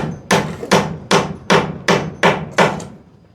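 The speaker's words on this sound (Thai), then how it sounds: "ช่างเขาก็ตอกตะปูงอคือกันเนาะ" A hammer drives nails into wood at a building job, with seven evenly spaced, loud, close blows, each a sharp crack with a short ringing decay, and no talking.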